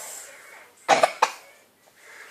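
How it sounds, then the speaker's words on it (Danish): Two sharp coughs close together from a small child in a family home, near and fairly loud against a quiet background. "Og hoste."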